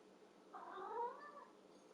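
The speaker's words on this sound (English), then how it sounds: "my cat's funny" A cat lets out a single drawn-out, wavering meow lasting about a second, close and fairly loud against a quiet indoor background, with no talking.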